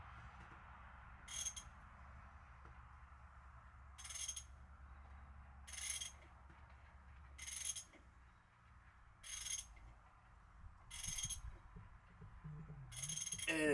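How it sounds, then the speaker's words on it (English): A 2JZ-GE turbo engine swapped into a BMW E30 is cranked over for the first time, with about seven evenly spaced bursts of rhythmic mechanical whirring and clatter separated by short pauses over a low background hum. "We're gonna spin the motor for the first time because I just put the transmission on."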